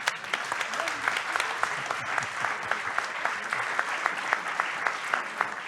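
A conference audience claps steadily for several seconds, a dense patter of many hands with a few sharper claps standing out.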